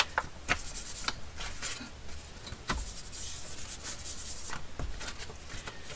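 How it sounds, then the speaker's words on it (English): An ink pad rubs and scrubs across a paper envelope flap to distress it, producing close, continuous dry scraping strokes with irregular soft taps and swishes, no voices present. "I'm just going to grunge the whole flap here."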